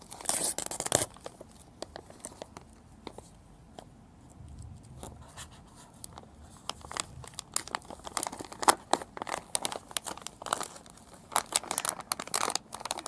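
A plastic packaging bag holding a fuel injector repair kit is opened and handled up close, with repeated crinkling, tearing and rustling bursts separated by quiet pauses.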